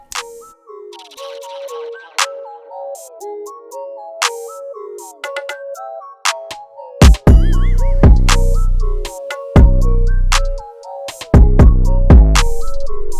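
A trap beat opens with a sparse plucked melody and ticking percussion, then booming 808 bass hits and cymbal transitions drop in, loud and punchy with no voices.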